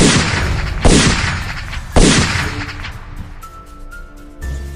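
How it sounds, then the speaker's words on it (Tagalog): Three loud gunshots ring out about a second apart, each followed by a ringing echo that fades into a quiet tail. "Pumutok ang kanyang baril ng tatlong beses."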